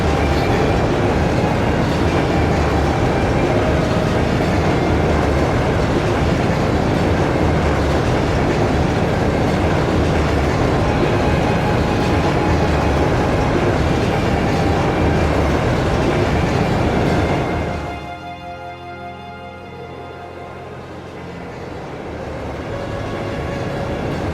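A high-speed train runs steadily in the game Trails of Cold Steel, a loud dense rushing rumble with rhythmic rail clatter that drops off abruptly into a quieter hum near the end.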